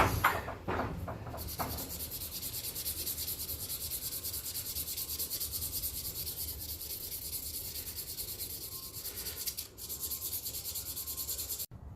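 Carbon steel blades of old Sheffield stockman pocket knives are sanded by hand, a steady close scratching and rubbing that continues without pause.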